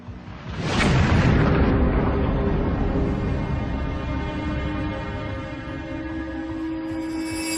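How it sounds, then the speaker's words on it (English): A documentary sound-effect explosion blows apart a bedroom: a sudden loud blast that swells into a heavy rumbling roar and slowly decays over several seconds. "It isn't long before an explosion destroys Darnley's bedroom"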